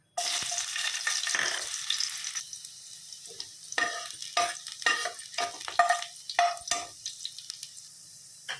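Chopped onions sizzle loudly as they hit hot oil in a pan for a bean curry, then the frying settles into a crackling hiss broken by bursts of stirring and scraping.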